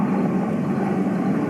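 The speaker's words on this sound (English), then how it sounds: "They're looking at a helicopter flying past, which you can probably hear." A helicopter flies past over an African safari setting, a steady low rumbling drone heard briefly at moderate loudness, without voices.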